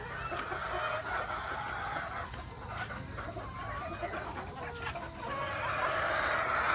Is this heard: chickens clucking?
yes